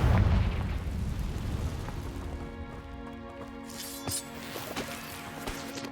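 A Confringo spell explosion in the video game Hogwarts Legacy: a loud booming burst at the start that fades into a ringing, crackling tail with scattered small pops.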